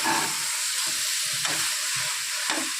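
Meal maker soya chunks stirred and sautéing in a hot pan for veg biryani, a steady sizzle throughout with soft scraping strokes of the spoon every second or so, close and alone.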